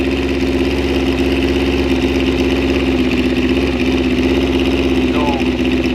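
Motorcycle engine idling steadily at St Thomas Dragway on a Friday night, a loud continuous throbbing hum with a faint chirp midway and background voices.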